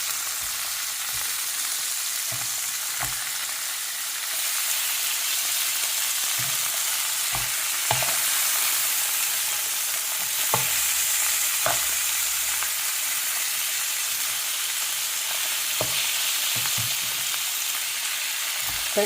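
Food fries and sizzles in a pan in a home kitchen while it is stirred. A steady close sizzle runs throughout, broken by scattered clicks and scrapes of the utensil, with no talking.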